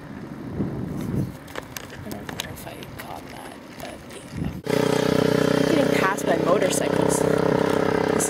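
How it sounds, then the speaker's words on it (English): Motorcycles passing on a street, a loud engine roar that swells abruptly and holds steady, following a stretch of nearby chatter and street noise. "Motorcycles."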